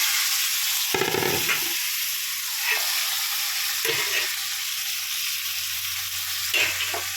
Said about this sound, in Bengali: এলাচ, দালচিনি, লবঙ্গ, স্টার, জায়ফল, জয়িত্রী সব এইগুলো এই একটু বাটারে ভেজে নেবো